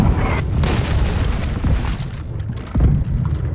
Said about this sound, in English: I think Sea Surf is shooting at us